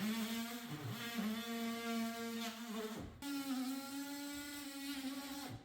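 A tool cutting an opening in drywall for a TV mount, a steady high whine with dense harmonics running throughout, briefly cutting out near the middle before resuming close and loud.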